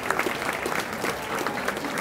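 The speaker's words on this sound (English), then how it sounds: "So a big round of applause to each of you for participating in that drive." A room of diners at a senior awards dinner breaks into steady applause, a continuous mid-level wash of clapping with a few distinct claps standing out.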